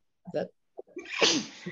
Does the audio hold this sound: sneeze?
yes